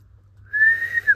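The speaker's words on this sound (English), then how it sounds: "What's that whistling?" A single short whistled note rises and holds briefly, then a quick second chirp, sounding fairly clear over a low hum in a forest at night.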